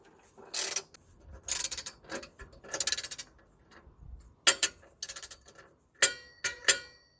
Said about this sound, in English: So just gonna tighten the bolt which is going into the subframe.